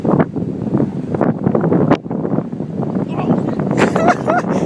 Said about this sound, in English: That wind blew hard.